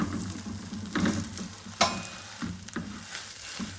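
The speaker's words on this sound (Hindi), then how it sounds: "अब इसमें हम लोग अपने ये जो पीसीज हैं ये ब्राउन कर लेते हैं।" Omelette sandwich pieces sizzle steadily in a hot pan as they brown, with a few soft scraping stirs and light clatter over the continuous frying hiss.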